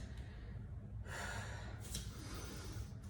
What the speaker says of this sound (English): that usually just means breathing a little deeper